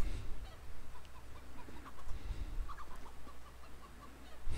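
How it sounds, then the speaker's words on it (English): Chickens clucking in the video game CS:GO, a scattering of short, fairly faint clucks over a low background rumble, with no talking. "Just fucking chickens."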